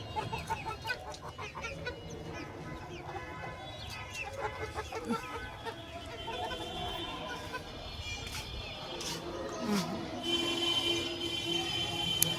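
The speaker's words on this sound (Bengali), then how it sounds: "এই যে আমাদের মুরগি" Chickens cluck steadily around a home yard, with occasional louder calls rising over a continuous, moderately quiet backdrop of farm-bird chatter.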